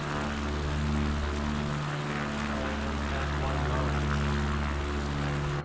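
A propeller airplane cruises at 80 knots with the engine at 2,000 RPM, giving a loud, steady drone from inside the cabin with a strong harmonic hum and little change throughout.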